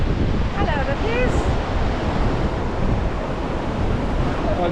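Steady broadband rush of water pouring from an overflow beside the River Mersey, continuous and fairly close, with wind buffeting the microphone.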